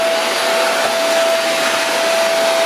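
An i woly cyclone vacuum cleaner runs in a steady, loud whirring roar with a constant high motor whine throughout. It is heard close up and alone, with no speech.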